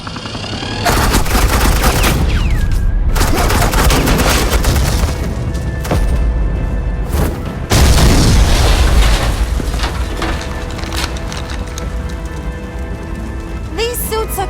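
Gunfire and explosions of suppressing fire in the Batman: The Enemy Within video game: a loud, dense, continuous barrage of shots and blasts with brief breaks, swelling again partway through.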